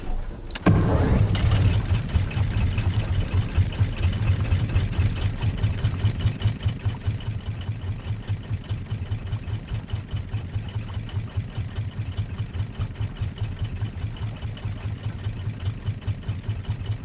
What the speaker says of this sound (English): I'm gonna turn the engines on for a little bit.